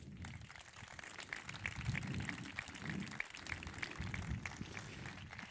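Faint, distant clapping from an audience at an art exhibition opening, rising and falling in waves over several seconds.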